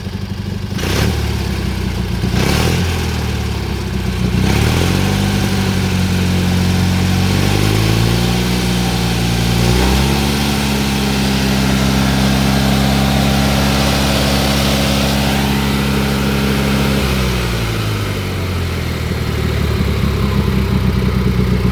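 Engine of a 1988 Argo Magnum 8x8 amphibious vehicle running steadily after an air filter refit, a loud close drone with a few rev rises and falls and a short burst of knocks at the start.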